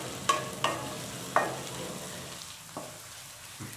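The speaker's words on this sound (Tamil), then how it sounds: "பச்சை மிளகாய் லேசாக வதங்கிடுச்சு." Green chillies and onion stir-fry in a home kitchen pan while corn methi pulav is being made. Soft, steady sizzling runs underneath a few sharp scrapes and knocks of a utensil against the pan, each followed by a quieter stretch.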